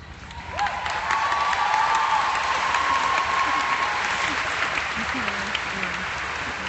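A large crowd at a Chicago convention breaks into loud, dense applause that swells quickly and holds steady, with a voice briefly heard over it and some faint cheering mixed in.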